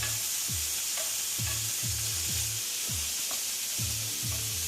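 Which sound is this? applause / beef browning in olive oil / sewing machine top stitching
beef browning in olive oil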